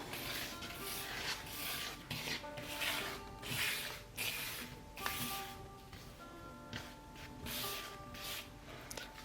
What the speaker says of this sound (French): Vous rajoutez la farine, le sel pardon, et les graines. Bien mélanger le tout.